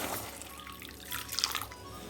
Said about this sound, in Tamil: இப்போ இதுக்கு நம்ம ஒரு அரை கிளாஸ் தண்ணி இதில் ஊற்றிடலாம்.